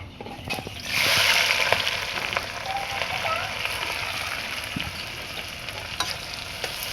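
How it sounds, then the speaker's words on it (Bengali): Chopped onion, garlic and green chili hit hot oil with a sudden loud sizzle, then settle into a steady crackling fry close by. "তেলটা গরম হয়ে গেছে, এবার পেঁয়াজ, রসুন আর কাঁচামরিচ দিয়ে দিব।"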